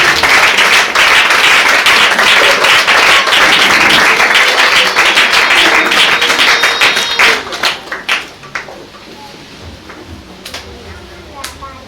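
At a church service the congregation bursts into loud clapping and cheering, a dense burst that fades after about eight seconds into a few scattered claps and quieter room sound.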